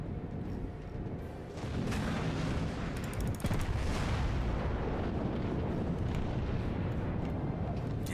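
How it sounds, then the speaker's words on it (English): Heavy warship gunfire in World of Warships, deep booming artillery reports layered over a continuous rumbling battle din, with a sharper cluster of shots partway through. "The Otago's firing at me."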